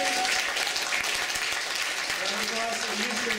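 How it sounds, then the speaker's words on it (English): Workshop audience applauding at a 2012 City of Heroes player summit, a dense, steady wash of clapping throughout with a faint voice underneath. "Round of applause for all everybody who gave suggestions"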